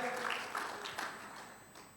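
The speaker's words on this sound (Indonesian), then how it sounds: "mari kita beri sorak-sorai yang meriah bagi Tuhan kita" Church congregation clapping and cheering, a crowd of applause at moderate distance with a few rising shouts over the steady patter, fading slightly toward the end.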